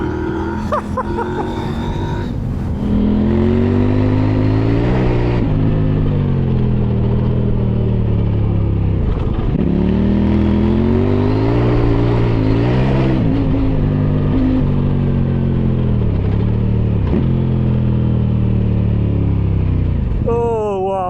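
A Kove 800X Rally motorcycle rips along off-road at full throttle, its loud engine climbing and falling through repeated gear changes close by, with a voice talking over the engine noise.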